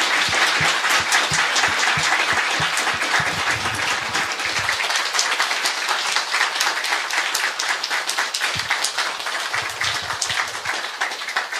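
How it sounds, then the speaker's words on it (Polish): Loud, close applause from an audience after a talk at a Polish lecture event, many hands clapping in a steady, dense wash that holds for over ten seconds. "Wielkie brawa"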